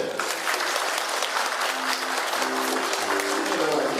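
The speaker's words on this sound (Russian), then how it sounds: "Еще раз аплодисменты." Audience applauding a dancing couple at a pair-of-the-year contest in Yakutsk, a loud, steady wash of clapping filling the hall for several seconds.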